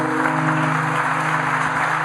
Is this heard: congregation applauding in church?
yes